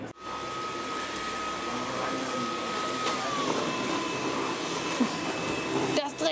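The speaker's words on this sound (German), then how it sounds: "Staubsauger." A vacuum cleaner runs steadily inside a shop, a loud continuous whining drone with a sustained tonal whine that shifts pitch slightly midway and cuts off near the end.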